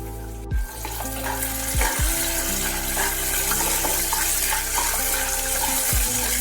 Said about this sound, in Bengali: বাদামটাকে ভালোভাবে একটু ভেজে নিতে হবে।